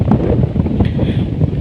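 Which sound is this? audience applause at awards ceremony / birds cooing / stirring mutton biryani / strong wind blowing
strong wind blowing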